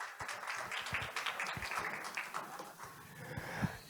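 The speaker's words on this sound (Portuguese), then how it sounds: "uma salva de palmas aos nossos convidados" A studio audience applauds guests, a dense, continuous clapping crowd heard fairly close that thins slightly toward the end, with no speech over it.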